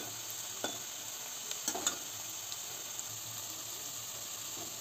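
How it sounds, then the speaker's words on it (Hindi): Onions frying and being stirred in a pan for chicken curry, with a steady close sizzle and hiss throughout and a few light scrapes of a ladle against the pan. "आपको प्याज को तब तक भूंज लेना जब तक प्याज सॉफ्ट ना हो थोड़ा ब्राउनिश ना हो"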